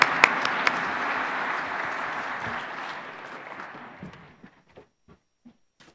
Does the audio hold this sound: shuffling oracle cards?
no